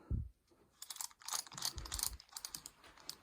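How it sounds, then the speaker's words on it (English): Headlamp being focused and unfocused inside an abandoned Utah mine, a quick series of small plastic clicks and ratcheting snaps, close and fairly quiet, irregular bursts with no talk. "The clicking sound is me focusing and unfocusing my headlamp."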